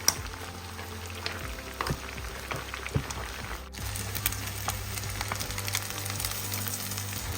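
Chicken in a pan for a Chicken Jo Fry, Oslo style, sizzles with a steady low crackle and faint spitting, getting louder and fuller partway through, with no talk over it.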